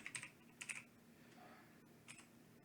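Brief, faint bursts of keystrokes on a computer keyboard, a few quick clusters of light clicks separated by short pauses in a quiet room.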